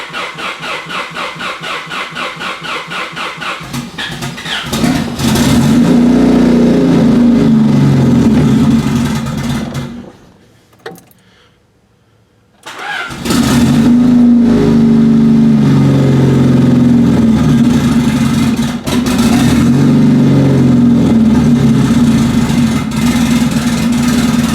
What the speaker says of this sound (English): All right, here we go. First test drive.